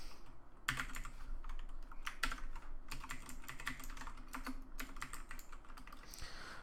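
Steady, rapid clicking of keys on a new computer keyboard, close and fairly quiet, with irregular bursts of keystrokes and brief pauses throughout.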